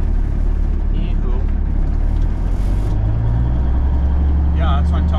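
Mechanical Cummins 350 diesel in a 1983 cabover truck, heavy steady low rumble that swells as the throttle is held up, continuous and close throughout with faint chirps above.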